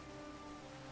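Steady rain falls in the video game Everything is Fine in Grimshire, a soft, continuous hiss of drops on a surface. It is quiet and even, with no other sounds over it in a brief moment.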